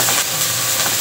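Garlic sizzles and crackles steadily in hot oil in a non-stick pan, a loud, close, continuous hiss with no talk over it.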